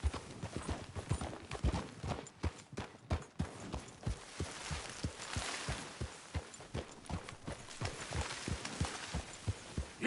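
Horse galloping in the video game Red Dead Redemption 2, a steady rhythmic clip-clop of hooves repeating throughout, close and clear with no talking.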